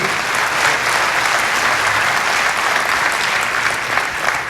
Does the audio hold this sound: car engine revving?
no